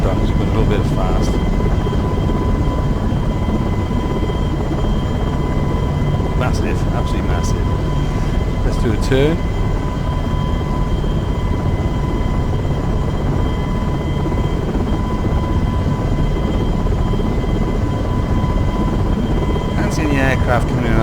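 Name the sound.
helicopter flying in a flight simulator video game (FSX/P3D)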